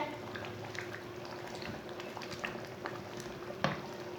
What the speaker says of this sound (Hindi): ऐसे ऐसे चम्मच चलाते हुए 3 मिनट तक पका लेंगे।